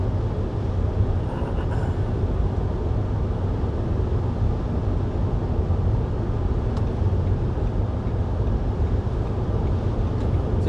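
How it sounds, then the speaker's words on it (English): Nissan Townstar 45 kWh electric van on a long highway drive: constant broadband tyre and road roar fills the cabin, steady and fairly loud, with no engine note. "Seems like the wind noise is good on this car, but the road noise is not that great"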